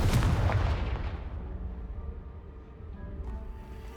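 A Confringo blasting spell explodes in the Hogwarts Legacy video game, opening with a loud booming burst that rumbles and fades away over a few seconds.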